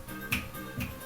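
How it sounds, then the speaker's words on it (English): Two finger snaps during a seniors' exercise session, crisp and fairly close, about half a second apart over a steady low background hum. "All right, if you can, let's snap."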